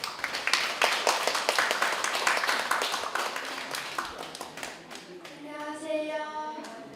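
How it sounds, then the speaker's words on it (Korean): Audience applause at a memorial event for writer Kim Yu-jeong's 115th birthday, a broad wash of many hands clapping at moderate distance that starts loud and thins out over several seconds. "박수 부탁드립니다."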